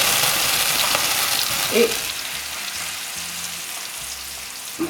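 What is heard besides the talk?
apples in butter being flambéed with alcohol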